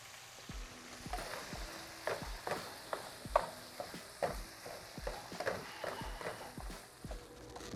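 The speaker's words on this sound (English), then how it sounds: "let's go ahead and throw our buns down on the grill here" Buttered buns and ground beef cook on a hot grill, making a quiet, steady sizzle broken by a regular series of light taps and scrapes.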